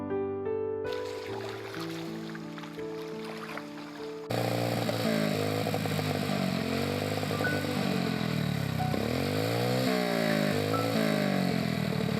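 After a few seconds of musical tones, a motorcycle engine with water in its exhaust idles loudly and revs up and down repeatedly, close by.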